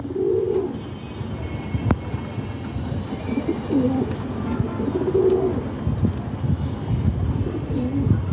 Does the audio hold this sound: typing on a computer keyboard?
no